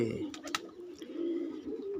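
A large pigeon of the Punnu line coos. A low, soft cooing drones steadily through the clip, faint and close, with a few clicking taps near the start and no clear voices.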